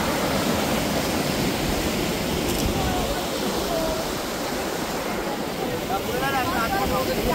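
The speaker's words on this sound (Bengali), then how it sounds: "এটা হচ্ছে খাসাদা ওয়াটারফলস। এই দেখো জলের ফ্লো আছে প্রচুর।" Khasada waterfall in Koraput sends out a loud, steady, broadband rush of flowing water that fills the whole stretch without a break.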